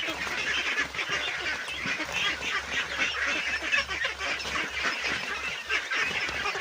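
A flock of domestic ducks feeding on azolla, with a steady chorus of nasal quacking and honking calls overlapping throughout at close range over a constant background hum.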